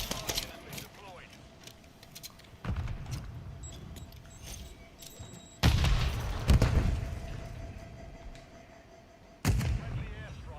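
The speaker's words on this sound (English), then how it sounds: "Friendly airstrike in the AO." Airstrike explosions in Call of Duty Modern Warfare III: three loud, heavy booms strike at spaced intervals, each with a rumbling tail, over a quieter background of game noise and a talking voice.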